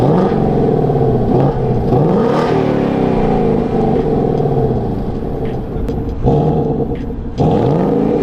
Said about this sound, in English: So this is how my car sounds stock.